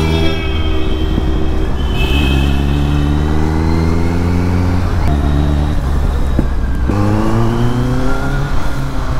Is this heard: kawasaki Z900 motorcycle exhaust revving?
yes